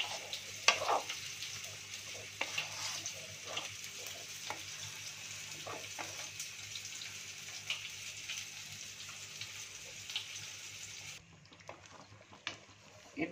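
Banana flower curry with turmeric and sugar being stirred in a pan, a soft sizzle with light scraping strokes of the spoon, quiet and close, fading near the end.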